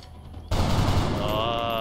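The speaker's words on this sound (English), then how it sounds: "perhaps take a couple of random shots" Gunfire in the XCOM Long War strategy game: quiet ambience, then a sudden loud shot burst that rings out into a sustained, reverberant roar with a high metallic whine trailing at the end.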